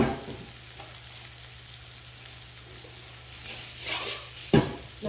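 Thick beef tenderloin steaks sear in a pan on a gas stove, giving a soft, steady sizzle with a low hum beneath and a couple of louder scraping clinks near the end.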